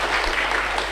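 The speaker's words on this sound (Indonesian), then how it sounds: "Tepuk tangan dong." Audience applause after a sung devotional song at a religious talk, a dense steady patter of clapping that fills the whole brief moment with no speech.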